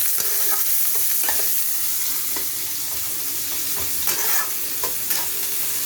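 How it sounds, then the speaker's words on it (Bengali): Chopped onions fry in a pan with cardamom and cinnamon for a chital fish malaikari, giving a continuous close sizzle broken by occasional spoon scrapes and clinks, with no one speaking. "পেঁয়াজগুলো একটু লাল লাল করে আমি ভালো করে ভেজে নেব।"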